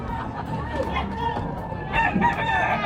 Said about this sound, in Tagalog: Mga panabong na manok, ang lalaki,